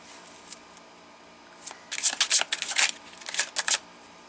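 Tarot cards being drawn and handled: a quick run of crisp, close card flicks and riffling shuffles in bursts, with no talking over them.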